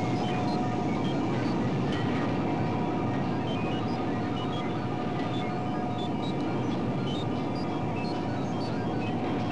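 A maglev test train hums and rushes past in a steady, even roar with a faint whine on top, continuous throughout and without voices.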